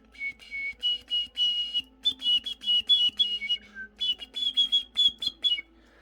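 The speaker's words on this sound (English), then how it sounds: "And as you do the whistling Jackel straw trick, there goes into a little bit of slight Hallows music." Flute-like whistling made by blowing through a straw, a sequence of short, clear pitched notes in a halting melody with small slides between tones, close and alone.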